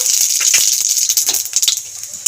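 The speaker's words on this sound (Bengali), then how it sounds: "গরম তেলের মধ্যে রাঁধুনি আর মেথিটা ফোড়ন দিয়ে দেবো" Loud, close sizzling of radhuni and fenugreek seeds in hot oil, a bright steady hiss broken by quick crackles and pops.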